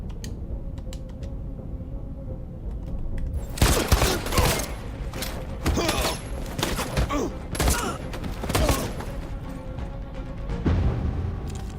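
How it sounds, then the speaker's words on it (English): Bursts of assault rifle gunfire in the video game Detroit Become Human, loud rapid volleys starting a few seconds in and recurring in clusters over a low background, with no talking. "So they are assault rifles."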